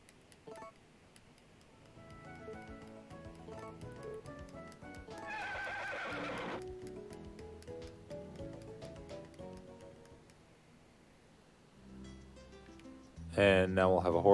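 A video-game horse neighs in a short whinny amid clip-clop hoofbeats, heard over light tinkling game music with other small effects.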